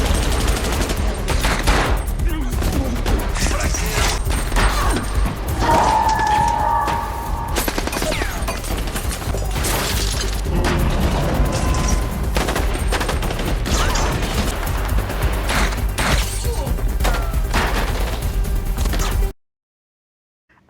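Sustained gunfight from the action film Project Power, with dense rapid bursts of gunfire, booms and impacts over a cinematic soundtrack for about nineteen seconds before cutting to silence.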